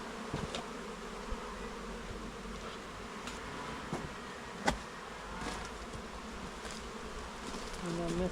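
Honey bees drone in a dense, continuous buzz around an open hive, close and steady with occasional soft knocks from the hive frames.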